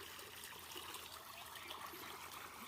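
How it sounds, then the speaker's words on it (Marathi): Water trickles and gurgles steadily from a motor-fed irrigation pipe watering a maize field, a faint continuous flow with no voices. "मकाला पाणी चालू आहे आता"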